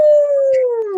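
A person imitates a lone wolf howl, one sustained, slowly falling tone held for about a second, loud and close.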